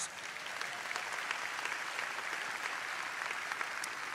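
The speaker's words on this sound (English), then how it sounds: "Give yourselves a round of applause." Graduates at a medical college commencement ceremony give themselves a round of applause, a broad, continuous roar of clapping from a large crowd, fairly distant and even throughout.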